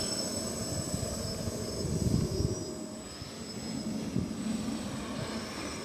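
A box-frame quadcopter drone hovers at about quarter throttle, its motors giving a steady high whine over a rough low rumble with slight surges, moderately close, no voices.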